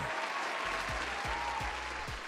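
A canned crowd applause sound effect plays in a comedy show: a short, dense burst of clapping at moderate volume with no one talking over it.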